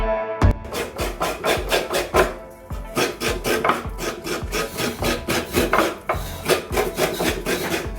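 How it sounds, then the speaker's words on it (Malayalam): Fresh coconut scraped by hand for aviyal, a Kerala feast dish: a close, rapid run of rhythmic rasping strokes, loud and steady for the whole stretch with no talking. "ഇതിപ്പോ ഞാൻ ആദ്യമായിട്ടാണ് ഇവിടെ തേങ്ങ ചിരണ്ടത്."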